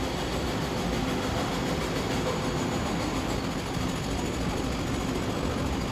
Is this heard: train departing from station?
yes